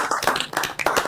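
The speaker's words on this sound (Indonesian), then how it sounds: "Tepuk tangan dong." A few people clap together at an indoor music single launch, giving a short burst of loose, uneven hand claps close to the listener.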